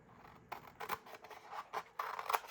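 Scissors snip paper for a small gift basket in a few quick, quiet cuts, each a short crisp rasp, heard close with no talking.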